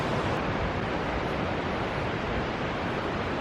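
Constant roaring rush of falling water at Foster Falls, loud and unbroken, heard up close.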